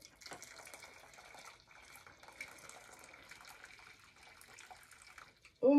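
Hot water pours steadily into a bowl while a wig is being made, a soft continuous running trickle heard close but faintly, cut off by a sudden loud burst at the very end.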